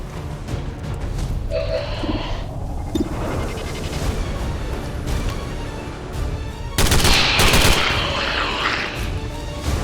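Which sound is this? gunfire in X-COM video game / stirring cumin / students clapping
gunfire in X-COM video game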